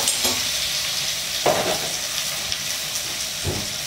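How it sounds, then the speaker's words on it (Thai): Marinated pork stir-fried with garlic in a hot pan, a constant loud sizzle broken by a few spatula scrapes and clanks. "แล้วก็ใส่หมูที่เราหมักไว้นะครับลงไปผัดกับกระเทียมนะสัก2ช้อนนะครับ"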